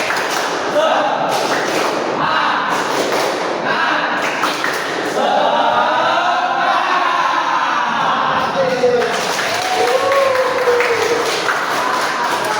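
A school class performs the rhythmic spirit clap, bursts of patterned clapping and thumps alternating with children's voices chanting together, loud and close in a classroom.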